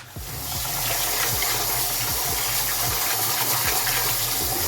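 Water gushing from a tap over black beans being rinsed in a kitchen, a steady loud rushing stream after a brief softer start, with repeated faint knocks and scrapes beneath.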